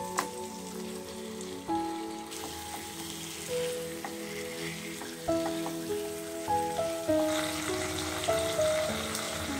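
Chicken pieces fry in hot oil and spicy masala for a Bengali chicken jhal kosha, crackling and sizzling close up with scattered pops and stirring scrapes, growing louder toward the end; no one speaks.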